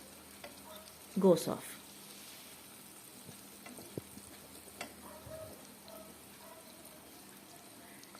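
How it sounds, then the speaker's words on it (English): Garlic sautéing in a pan for an Indian mutton curry gives a low, steady sizzle, with a louder burst of stirring and scraping near the start, then a few faint clinks. A voice speaks briefly. "Once the garlic is added, you need to saute it until the rawness of the garlic"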